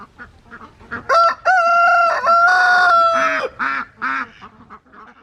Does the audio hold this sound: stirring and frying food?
no